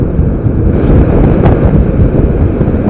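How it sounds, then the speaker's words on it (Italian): Strong wind buffets a microphone outdoors on open ground in the Aveto hills, a loud, continuous low rumbling roar that fills the whole stretch with no other sounds audible. "c'è troppo vento, bisogna andare."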